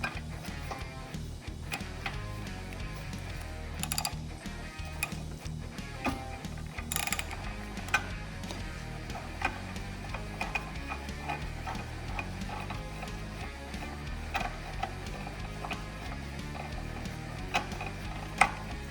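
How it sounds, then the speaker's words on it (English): A 13/16 inch ratchet turns a spark plug on a Honda GCV190 OHC engine fitted to a Troy-Bilt pressure washer, giving repeated close, dry clicking and ratcheting ticks in uneven bursts with no talk. "This is a 13/16 inch ratchet."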